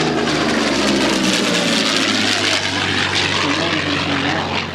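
A Curtiss P-40 Warhawk fighter with an inline engine flies at an air show, its propeller and engine roaring loud and close as a continuous, rough drone.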